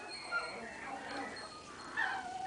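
Cavapoo puppies whimpering softly, faint high whines and little yips at close range under quiet talk.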